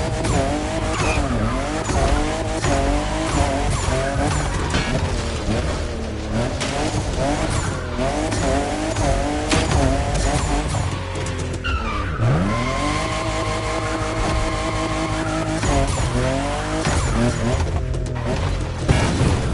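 A Toyota Supra, fifth generation, drifting in The Crew Motor Fest racing game on PS5, engine revving and tires squealing continuously and loudly, with shifting pitch through the turns and no talk.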